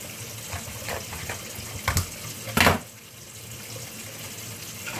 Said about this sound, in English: drain them in cold water, rinse them like this